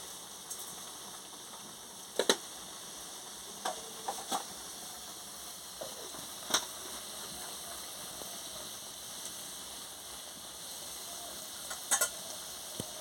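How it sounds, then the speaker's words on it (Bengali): An egg sour curry with dried mango powder cooking in a pot gives a soft, steady sizzling bubble, broken by occasional sharp clinks and taps of a utensil against the vessel, all fairly quiet and close. "আমচুর দিয়ে ভালো করে ফুটিয়ে নিচ্ছি।"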